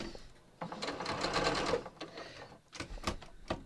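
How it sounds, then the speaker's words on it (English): A sewing machine stitches a fabric seam over a holding clip, running in a steady, close whirring burst of rapid needle strokes that pauses briefly and then resumes in a few short runs. "So I'm just going to start sewing."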